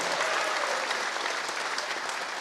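A dense, loud crowd claps without pause at an Indonesian political rally for presidential candidate Prabowo Subianto, a steady roar of many hands with no talk over it.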